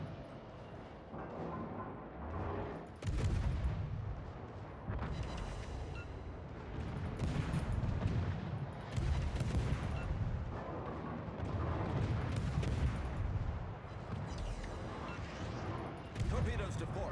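Naval artillery fire in World of Warships at tier 3, with battleships trading heavy broadsides: repeated deep booming salvos and rumbling blasts that recur through the stretch, with someone talking over them.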